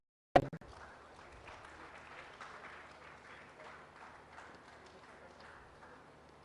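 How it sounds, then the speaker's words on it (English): Applause from an audience at a live capital and productivity event starts with a sharp burst, then keeps up as a steady, fairly faint clatter of many hands for several seconds. "We give a big round of applause."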